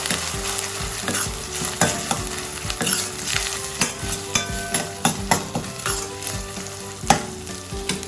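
Ginger garlic paste fries in a pan with a steady sizzle, broken by a regular run of spoon strokes and clinks against the metal, close and fairly loud.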